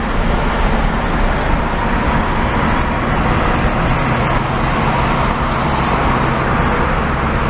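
A 1963 Chevrolet Corvair Monza drives along a road, its steady engine and road rumble loud and continuous throughout, with broadband tire and wind noise and no talking.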